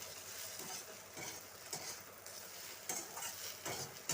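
Fish frying in a pan with salt, turmeric and coriander powder gives a soft, steady sizzle, fairly faint, with a few brief scraping stirs of a utensil breaking through at intervals.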